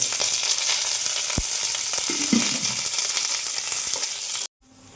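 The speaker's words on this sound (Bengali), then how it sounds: "আমি পেঁয়াজ আর রসুনটা ভেজে নিব।" Onion and garlic fry in a pan with a steady, close sizzle and a few soft clinks and stirring scrapes, ending in a sudden cut to quiet.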